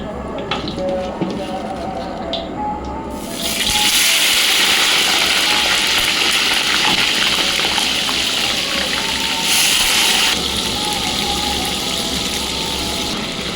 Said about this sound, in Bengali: সব বেগুনগুলো ভাজা হয়ে গেছে এবার সিম ভাজা হবে